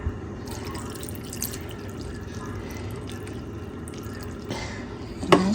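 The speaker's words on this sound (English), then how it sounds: "And now we're gonna add a little bit of water." Water trickles and splashes steadily into a cooking pot of greens with ham and bacon, a continuous close pour that ends with a brief clatter.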